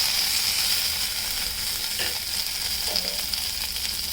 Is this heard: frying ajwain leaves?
yes